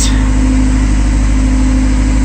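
A 1984 Porsche 944 naturally aspirated engine idles fast at about 1500 RPM instead of 900, likely from a vacuum leak, giving a steady, loud, close hum with a constant low drone throughout.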